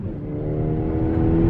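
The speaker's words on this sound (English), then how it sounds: "The car downshifted." A Mazda Miata engine revving as it accelerates and downshifts, a close, loud rising drone that builds steadily over a short burst, with no voices.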